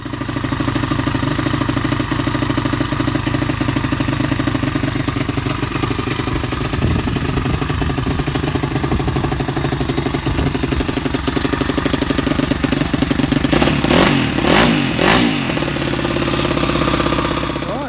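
A pit bike supermoto engine runs steadily for the whole stretch, a close, loud, rattly idle with a hard mechanical clatter, and a few sharp throttle blips near the end.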